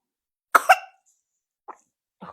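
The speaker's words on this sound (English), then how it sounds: "Got a little cough." A person gives a sharp double cough up close, followed by a couple of softer short coughs or throat sounds after a pause, in an otherwise quiet room.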